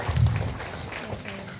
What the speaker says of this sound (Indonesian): Boleh minta tepuk tangannya dulu buat Ustazah Husnul